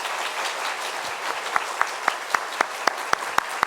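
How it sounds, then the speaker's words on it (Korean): A church congregation claps to welcome visiting missionaries, the dense applause starting softly and swelling into sharp, rhythmic unison claps near the end. "잠시만 일어나 주시면 우리 큰 박수로 함께 환영하겠습니다."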